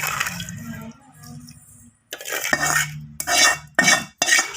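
Mango pickle pieces are mixed with oil and spices in a metal vessel, producing wet squelching and scraping bursts with short pauses between strokes, close and fairly loud with no talking.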